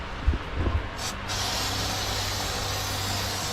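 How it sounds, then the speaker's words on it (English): A continuous hiss of an aerosol can of rat repellent spraying for several seconds after a couple of short knocks, close and fairly loud. "this is rat repellent spray"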